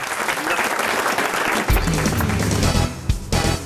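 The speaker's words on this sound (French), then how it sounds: "Eh ben, vous applaudissez." A studio audience at a French radio show applauds steadily and loudly, the clapping continuing throughout while low music or voices come in partway through.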